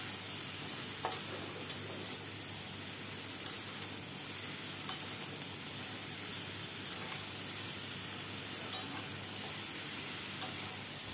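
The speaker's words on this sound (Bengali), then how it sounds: "ডাঁটাগুলো দিয়ে সব তরকারির সাথে ভালো করে একবার মিশিয়ে নেব।" Bottle gourd stems are stirred into vegetables frying in a pan, giving a continuous even sizzle with occasional faint scrapes of the spoon and no talk.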